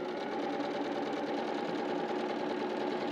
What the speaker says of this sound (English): So I'm just going to sew those pieces either side, first of all.